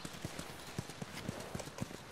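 Horse hooves clip-clop in a steady, fairly close rhythm of about ten evenly spaced strikes, heard alone in The Last of Us video game.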